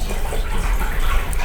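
Water of the Sungai Timbang river flowing beneath a small bridge, a loud close rushing gush that stays steady and continuous.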